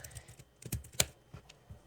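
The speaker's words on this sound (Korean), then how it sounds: "그러고 이렇게만 타이핑을 하면은" Typing on a computer keyboard while coding a community app: a sparse run of soft key clicks with a couple of sharper, louder strikes near the middle, heard alone and fairly close.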